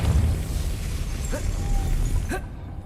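A Depulso spell is cast in Hogwarts Legacy, a dense whooshing burst with rumbling low end and two brief rising magical chirps, loud and close, over a steady game soundscape.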